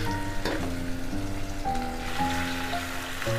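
Spice-coated ivy gourd pieces fry in hot oil in a kadai with a steady crackling sizzle, while a constant tonal hum runs underneath throughout and no one speaks.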